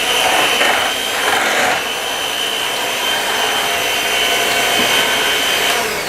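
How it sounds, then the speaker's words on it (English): An electric mixer whirs steadily through chocolate cake batter, a loud continuous high-pitched motor drone close by with slight shifts in pitch as the beaters work. "And I'm going to mix this all together."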